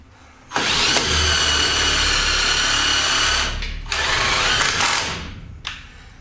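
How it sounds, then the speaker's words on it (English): A power drill whirs loudly for several seconds, pausing briefly and restarting in short bursts as it drives self-tapping wood-to-metal screws in reverse into framing, with a final quick burst at the end. "just running the drill in reverse and applying pressure, letting the screw drill itself out"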